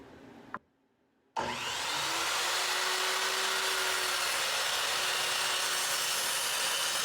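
A power saw cuts through a live-edge wooden board, starting after a brief silence and then running as a loud, steady, continuous buzz for several seconds.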